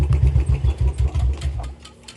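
A motorcycle engine idles close by on a roadside stop, a loud low pulsing thrum with regular chugging beats that tapers and quiets toward the end, no voices.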